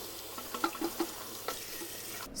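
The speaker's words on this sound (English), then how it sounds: "use warm water and keep filling it up and rinsing it out until all the soap is out" Warm water splashes and sloshes as a hydration pack bladder is filled and rinsed, several soft irregular gurgles and splashes close by, fairly quiet and without talk.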